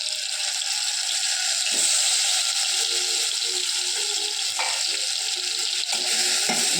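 Stuffed eggplant goes into a pan with sautéed onions and fries in oil, a steady close sizzle broken by a few scraping stirs and soft clatter, with no talking.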